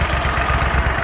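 A small engine, warmed up for about two minutes, idles steadily at roughly 1,000 RPM with a low, even throb that sounds close and constant and is heard alone.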